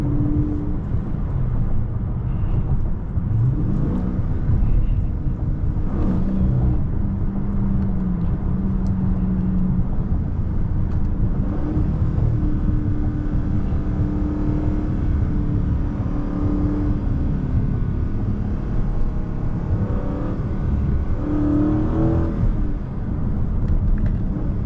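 A Dodge Scat Pack's engine drones steadily from inside the car, with a few rises in revs and a brief uneven stutter under a continuous road rumble, and no talk.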